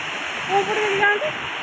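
Strong flowing water rushes steadily at a stream beside the Panchalingeswar temple, a loud continuous wash that runs throughout while a voice speaks briefly over it.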